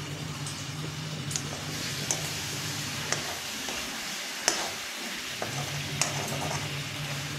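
Goat meat curry fries in a pan with a steady, moderately loud sizzle, while a spoon stirs it in a few scattered light scrapes and taps.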